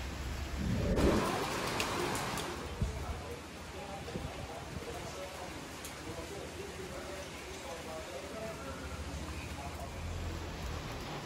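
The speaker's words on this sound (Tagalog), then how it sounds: "Pabugso-bugso yung lakas ng hangin tsaka ng ulan." Rain falls steadily outdoors in Parañaque during a typhoon, with wind rumbling in gusts, strongest near the start, then settling into a constant hiss of rain with occasional louder drops.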